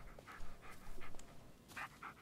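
A dog in the Blair Witch video game pants rapidly and lets out small whimpers, quick breathy bursts close by and fairly soft, with no talking.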